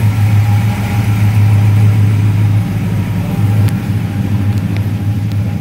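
A 1947 Ford Coupe street rod idles steadily nearby, a low, even engine rumble with a slight dip in level partway through and no voices.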